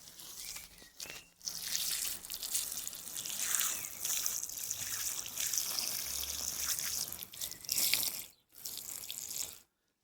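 Water pours from a pump pipe in a continuous rushing, splashing stream that stops briefly twice before running on and then cutting off.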